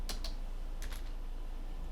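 Quick clicks of fingers striking a computer keyboard while entering a number into software, a few keystrokes near the start and another pair around one second, then a steady low room hum.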